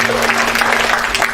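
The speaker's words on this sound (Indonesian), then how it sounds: "Tepuk tangan bagi Tuhan Yesus" A church congregation claps loudly and steadily in praise of Jesus, a dense, close wall of applause with faint voices mixed in throughout.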